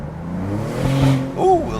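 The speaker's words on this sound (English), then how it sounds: "What it sound like in GT mode, wide open throttle" A Maserati GranCabrio Trofeo in GT mode revs at wide open throttle, a short low engine drone rising in pitch over under two seconds, with a voice speaking over the end.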